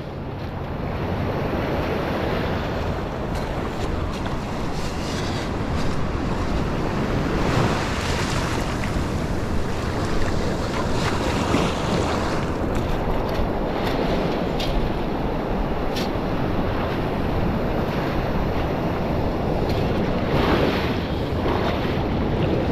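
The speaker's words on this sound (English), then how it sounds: "we get a set, and the waves were small 5 minutes ago. Now they're persistent." Ocean waves breaking on a beach in a steady, continuous roar of surf with wind buffeting the microphone, no voices present.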